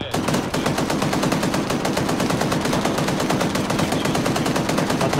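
Rapid automatic gunfire in the military shooter ArmA 3, a loud continuous burst of evenly spaced shots rattling without pause for about five seconds, with no voices over it.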